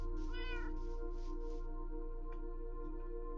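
A house cat meows close by, a few drawn-out rising meows in the first second and a half, over a steady electronic hum from game audio.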